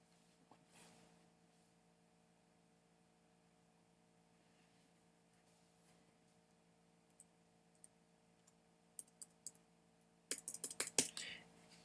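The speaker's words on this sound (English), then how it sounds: "let me delete all that, and let me type in the various passwords" Passwords go in on a computer keyboard. A few isolated, faint key clicks give way to a short, quicker run of sharper typing near the end, over a quiet background.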